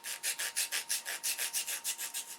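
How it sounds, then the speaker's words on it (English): Sandpaper fixed to the back of a square rubbed back and forth against a workpiece, a steady run of about a dozen close, even scratchy strokes with no voices. "I have a piece of sandpaper on the back of this square."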